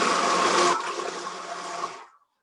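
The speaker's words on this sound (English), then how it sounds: "I'm gonna put in the immersion blender" An immersion blender whirs through ingredients for a couple of seconds, a dense steady buzz that eases slightly then cuts off, close and alone.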